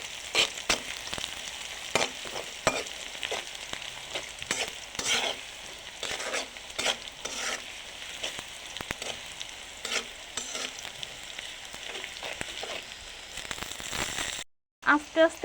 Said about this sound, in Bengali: এখন ভালো করে নেড়েচেড়ে ভেজে নেব।